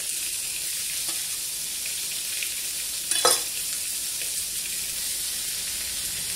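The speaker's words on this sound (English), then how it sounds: "And then we just put the ingredients in bit by bit. Onions, chilli and garlic," Onions, chilli and garlic stir-frying in a hot pan, a steady loud sizzle throughout with a brief sharper hiss burst partway as food is stirred.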